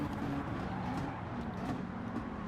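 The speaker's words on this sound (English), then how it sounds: "You can hear that engine of the Merc giving it all" A steady, droning Mercedes racing car engine in Gran Turismo 7 roars continuously at high revs, a sustained mechanical hum with slight pitch wavering throughout.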